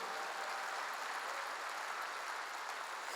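A church congregation claps in a steady, even wash of applause, faint and distant, lasting the whole moment without voices.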